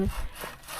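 A hand saw rasps through tree branches in a brief, rough burst of strokes at close range, with low scraping texture and no voices.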